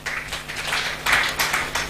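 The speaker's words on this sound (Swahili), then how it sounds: "Tumpigie makofi." An audience at a county public participation meeting applauds, a sustained crowd of clapping heard at moderate volume throughout.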